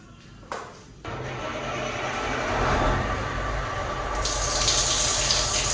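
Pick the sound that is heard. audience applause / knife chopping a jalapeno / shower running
shower running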